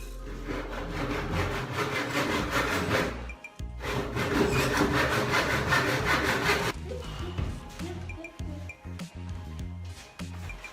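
Hand saw cutting through wood in a rhythmic, rasping back-and-forth stroke, loud and close, pausing briefly before a slower, choppier run of strokes near the end of the cut, with no talking.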